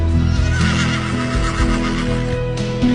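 A horse whinnies in an animated film about a wild horse longing for freedom: a loud, harmonic neigh rising and falling over about three seconds, layered with a steady musical score.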